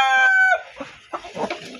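Close by, a chicken gives a drawn-out crowing call, followed by several short clucks from the hens of a small backyard flock.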